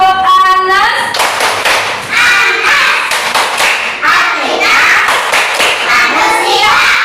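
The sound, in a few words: group clapping the Tepuk An-Nas clap rhythm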